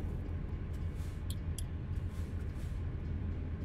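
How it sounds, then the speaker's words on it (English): A train rumbles in American Truck Simulator, a steady low mechanical drone with faint higher clanks, heard at moderate level without talk. "I hear a train somewhere."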